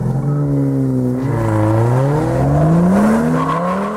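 A car with an automatic transmission launches hard using launch control, engine revving up in rising sweeps with quick gear changes between them, loud and close throughout.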